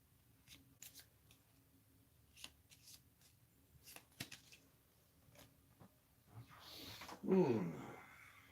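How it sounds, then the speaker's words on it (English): Cards from the Pandemic: Reign of Cthulhu board game are shuffled at a tabletop: faint scattered clicks and taps build to a brief, close riffle near the end. "Shuffle the summoning discard pile and put the cards on top of the summoning deck."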